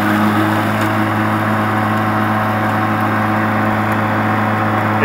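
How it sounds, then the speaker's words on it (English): A Stihl battery electric push mower runs in eco mode with a steady, even motor hum and whirring blade, close and constant throughout. "I'll go ahead and let you hear this eco mode, how it works"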